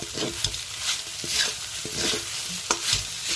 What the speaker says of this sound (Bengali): ভালো করে এরপর নেড়ে চেড়ে ভেজে নেব।